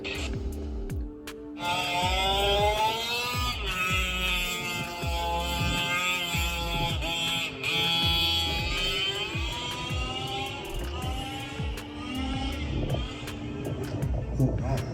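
A Losi 5ive-T RC car's gas engine runs during break-in, a loud, steady, close-up buzzing whine with rich harmonics whose pitch rises and dips as the throttle shifts, running continuously for about fifteen seconds.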